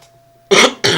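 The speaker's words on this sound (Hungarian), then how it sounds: "hogy ha hallottátok, hogy köhögök" A person coughs twice in quick succession, close to the microphone, after a near-silent start with a faint electrical hum.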